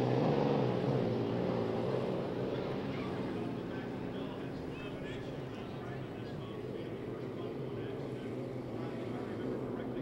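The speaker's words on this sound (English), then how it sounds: "imagine 5 hydroplanes like that racing along the race course" Hydroplane racing boat at Seafair, its engine a loud steady broadband roar sustained across the whole stretch, easing slightly after the first moments as the boat runs past along the course.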